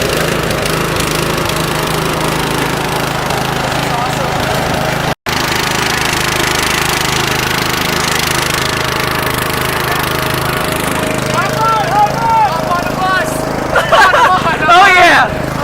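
A tractor engine drones steadily while being driven, with a continuous low mechanical hum under background chatter and voices, growing busier toward the end.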